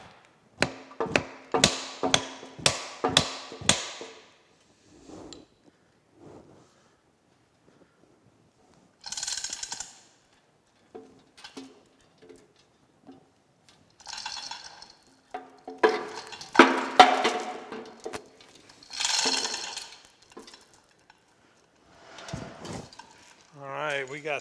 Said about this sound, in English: Let me get a punch and knock those out.